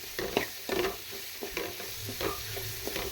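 Turkey berries (sundakkai) sauté in oil in a pan, a soft sizzle running underneath repeated scraping strokes of a stirring spoon, close and fairly quiet, no talking.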